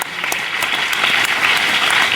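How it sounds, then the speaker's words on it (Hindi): A gathered audience claps steadily at Patanjali Gurukulam in Haridwar, a dense, continuous burst of applause filling the whole moment without voices over it. "इसके लिए ताली बजाओ कि आप"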